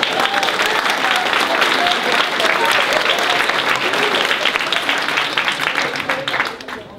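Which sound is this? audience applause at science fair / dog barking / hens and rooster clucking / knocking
audience applause at science fair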